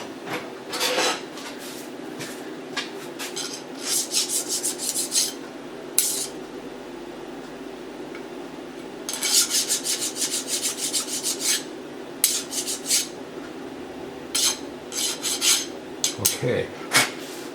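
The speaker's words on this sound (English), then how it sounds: "deburr that a little bit" A hand file rasps across a metal bracket being deburred, in repeated bursts of quick back-and-forth strokes separated by pauses, over a steady low machine hum.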